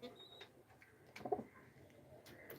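A young racing pigeon gives a faint, brief call in a quiet room, and a voice speaks softly nearby.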